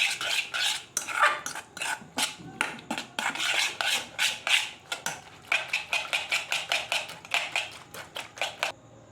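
Eggs with salt are beaten briskly in a bowl, a rapid, steady series of close scraping whisks and taps against the sides that speeds into a tight rhythm, fairly loud and continuous.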